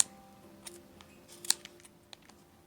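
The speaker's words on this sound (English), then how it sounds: "Those are sharp scissors, Anne." A few sharp snips of scissors cutting yarn on a pom pom maker close by, separated by quiet handling noises, with a faint steady hum in the background.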